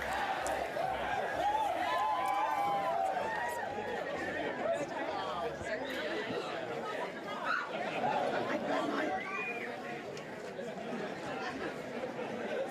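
Dense crowd chatter at an election night gathering before the Premier's speech in South Australia, a steady mass of overlapping voices with scattered laughter filling the space close and continuous.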